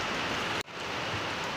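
Winter rain in Nashik falls in a steady, even hiss on surfaces, briefly cut off for a split second before resuming at the same level.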